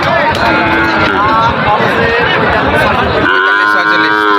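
Cattle at a livestock market selling Sahiwal, Gir and Brahman bulls low repeatedly amid a loud, busy crowd babble, with one drawn-out moo standing out clearly near the end.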